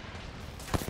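A charge rifle fires in Apex Legends, a sharp burst near the end of a short stretch of game noise, followed by a couple of fainter impacts.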